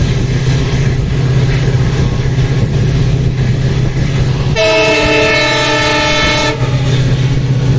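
A passenger special train, number 06920 running Bagalkot to Hubballi, passes the Gadag bypass. Its horn blares loud for about two seconds over a steady, close rail rumble that continues before and after.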